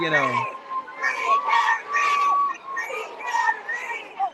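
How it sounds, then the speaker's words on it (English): A crowd chants outside a courthouse at the Karen Read verdict, with rhythmic bursts of many voices repeating at a steady pace, heard at a distance over a faint steady tone. "the crowd is chanting out front"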